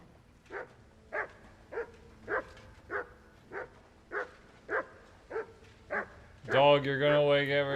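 A dog in a video game barks in a steady series of about ten short, sharp barks, roughly evenly spaced, close and fairly loud, before a burst of dense tonal game music takes over at the end.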